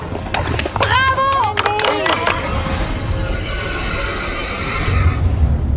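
A horse whinnying in a German film trailer, a loud rising and falling neigh in the first seconds followed by a steady background of rumbling noise.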